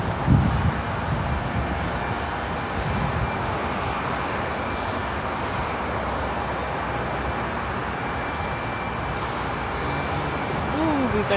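A heavy jet aircraft at Seattle-Tacoma International Airport produces a broad, continuous engine roar that holds steady throughout, fairly loud and unbroken, with no voices over it.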